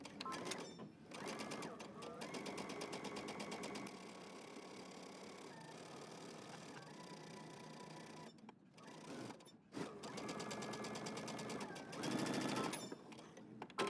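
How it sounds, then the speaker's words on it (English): Sewing machine stitching a 5/8-inch seam around a pattern piece, a steady dense mechanical whir running in long continuous bursts with brief pauses between. "we're going to stitch all the way around using a 5/8 of an inch seam allowance"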